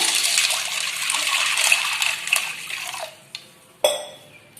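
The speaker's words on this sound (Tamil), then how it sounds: "சேர்த்து தேவையான அளவு தண்ணி சேர்த்துக்கலாங்க." Water is poured into a kadai holding dry pasta, a close splashing rush that tapers off, followed by a couple of sharp clanks of the pan or utensil.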